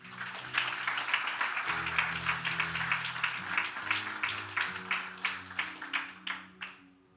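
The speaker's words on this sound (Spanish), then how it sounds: "Dios se merece un aplauso." Applause rises from a church congregation during a Spanish-language service, with steady clapping over a low sustained organ or keyboard chord. It gradually thins into a few separate claps before fading out.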